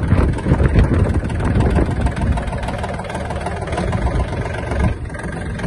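Kubota L1-185 Japanese mini tractor engine idling steadily with a low diesel rumble, close and continuous throughout.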